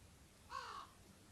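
One faint crow caw sounds from far away over a snowy winter landscape, brief and alone against a quiet background.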